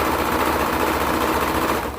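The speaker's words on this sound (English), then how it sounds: "So don't go over your pins with the serger." A serger sewing a skirt to a bodice runs in a fast, steady mechanical whir that is close and loud, then winds down at the end with no speech.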